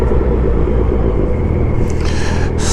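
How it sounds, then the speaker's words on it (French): A pearl yellow Renault Clio RS passes on a city street with a loud, steady engine rumble and tyre roar close by, holding constant throughout. "Sympa petit Clio RS bien jaune nacré, très très sympa."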